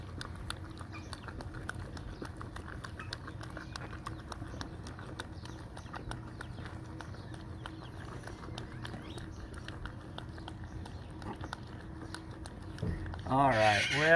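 Pigs at feeding time chomping and smacking their food noisily, a steady run of rapid wet clicks lasting throughout, with voices faintly behind and a louder scuffle at the end.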